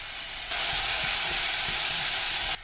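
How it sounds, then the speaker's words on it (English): Onion and garlic sauté in hot oil in a home kitchen pan, a loud steady sizzle that starts abruptly and holds continuously, with faint scraping stirs beneath, then cuts off near the end. "I'm going to saute my onion"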